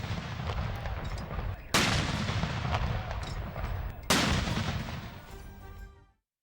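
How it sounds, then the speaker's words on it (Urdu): A ceremonial cannon gun salute fires in the capitals, 31 guns in the federal capital and 21 in provincial ones. Two sharp booming blasts land a few seconds apart over a steady rumbling background. "دن کے آغاز پر وفاقی دارالحکومت میں 31 اور صوبائی دارالحکومتوں میں 21 توپوں کی سلامی۔"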